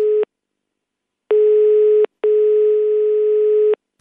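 Telephone call tones heard while phoning a hotel manager: three steady buzzing beeps, a short one followed by two longer ones with brief gaps, loud and clear with no talking.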